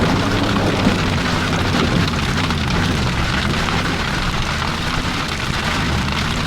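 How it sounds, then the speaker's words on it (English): Hail and rain from a tornado storm pound a moving vehicle in a dense, loud, unbroken roar, with a low engine and road rumble underneath throughout. "We're just currently driving through the hail and the rain from the tornado itself."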